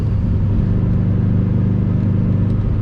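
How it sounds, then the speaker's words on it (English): A modified 2005 Subaru WRX STi with an external wastegate idles or runs steadily up close, giving a loud, deep, continuous rumble with a slightly uneven pulsing texture. "that external wastegate is something else"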